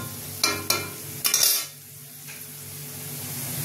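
Chicken pieces go into a hot kadai of fried onions while making chicken chaap: a few sharp metallic clatters, then a brief burst of sizzling that settles into a quiet background hiss, with no talking.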